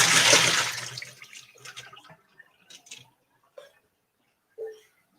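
Cooked green beans are drained of their water: a loud rushing pour at the start quickly tapers into scattered trickles and a few isolated drips close by.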